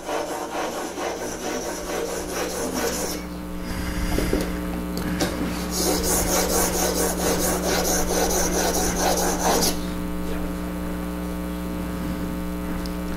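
A chisel is drawn back and forth across a sharpening stone in repeated gritty rubbing strokes, close and fairly loud, over a steady mains hum.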